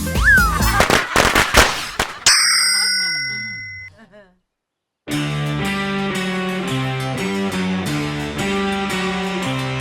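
Firecrackers go off in a rapid burst of sharp cracks during the first two seconds of a Thai comedy scene. Ringing, bell-like tones follow, then a brief silence, and then loud music.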